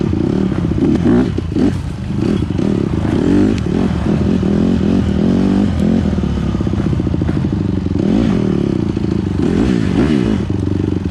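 A dirt bike rides a trail, its engine loud and close throughout, rising and falling with throttle changes alongside clattering and scraping from the terrain; no talk.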